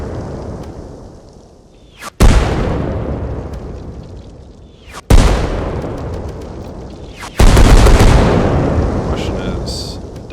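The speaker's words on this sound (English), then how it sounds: "So the supply point gets destroyed." A supply point in Arma Reforger is destroyed, setting off three heavy, loud explosions a few seconds apart, each a sharp blast that rolls off into a long rumbling decay, with no other sounds between them.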